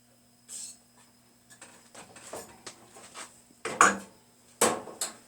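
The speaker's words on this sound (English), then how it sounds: "And then we stir all that up." A spoon scrapes and knocks against a pot while macaroni and cheese is stirred, giving sparse, uneven clinks and taps with quiet gaps between them and a couple of louder clanks near the end.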